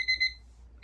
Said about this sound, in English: I'm also curious to see how this alarm sounds